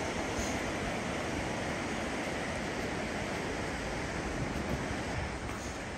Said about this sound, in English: liven up this beautiful, raging, roaring National Wild Scenic River.